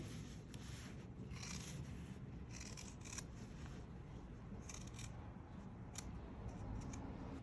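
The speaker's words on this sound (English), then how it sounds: "We'll cut along this long line and cut up into each of the 4 corners." Scissors snip through layered fabric in a quiet series of short, crisp cuts with brief pauses between them.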